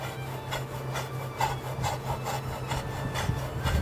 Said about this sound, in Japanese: その分ちょっと上がっているのでディスクのところに当たってねガシガシなっております